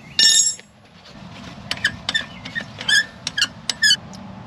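A small spanner tool loosening the rear coilover adjuster on a Pontiac GTO fitted with Pedders Extreme XA coilovers, giving a series of short, sharp metallic squeaks and clicks in an irregular rhythm, close up, with no talk.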